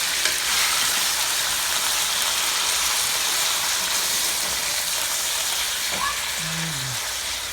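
Steak sears in a hot pan with caramelized sugar, giving off a loud, dense, continuous sizzle that holds steady throughout, with a faint voice briefly heard near the end.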